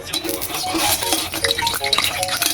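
Tofu frying in boiling oil in a home kitchen, with a busy, continuous crackling sizzle and scattered light clatters of utensils against the pan throughout.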